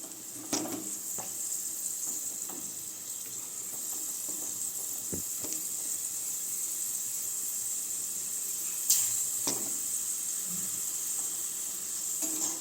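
Raisins and nuts frying in a pan while making boondi laddu, a steady soft sizzle with a high hiss throughout and occasional clicks and light stirring taps, with no voices.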